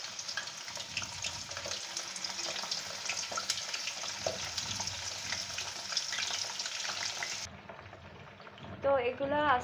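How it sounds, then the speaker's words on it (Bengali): Chicken and potato pieces frying in hot oil, a steady dense crackling sizzle throughout with occasional spatters, fading near the end as a voice briefly speaks. "তো এগুলো আস্তে আস্তে ভালো মতো ফ্রাই হতে থাকুক।"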